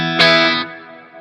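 Reverb trails from a Walrus Audio Ambient pedal on guitar, a bright sustained wash that swells briefly then is cut short when the mode is switched, leaving a fading, thinning tail.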